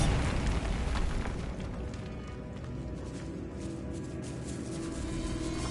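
Bombarda explosive spell cast in a decayed catacomb in the Hogwarts Legacy video game: a loud, deep booming blast that rolls into a sustained rumbling roar, fairly steady throughout.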